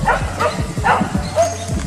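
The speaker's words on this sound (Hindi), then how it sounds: "अपना सारा ध्यान भौंकने पर देते हैं और भौंकते ही रहते हैं" Dogs barking repeatedly at an otter, a run of loud, close, rapid barks and yips in quick succession.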